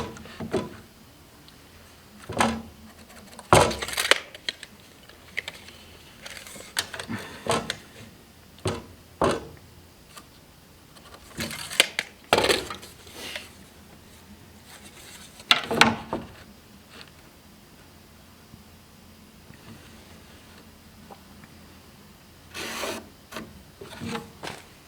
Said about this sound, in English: I'm going to cut from this way so I can cut this little sliver off here